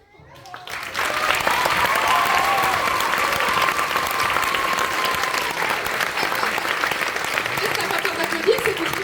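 An audience applauds after a show at an open-air event, with dense, sustained clapping that starts abruptly and carries on loudly and evenly, a voice and faint crowd murmur mixed in underneath.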